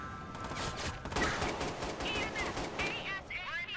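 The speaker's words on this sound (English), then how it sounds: "I've got shotguns now." Rapid gunfire from a shotgun in the video game Watch Dogs 2, a dense burst of loud repeated blasts lasting a few seconds with no clear gaps.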